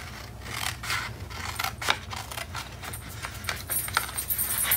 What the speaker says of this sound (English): I'm going to trim that, and you're going to trim at the score line